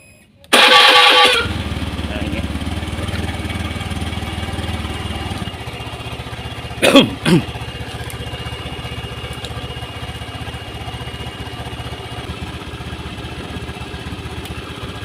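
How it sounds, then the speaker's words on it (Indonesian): A Honda Scoopy scooter with a rough starter cranks with a harsh burst and catches, then settles into a steady idle heard close, with a brief louder blip midway. "lalu kita hidupkan motornya"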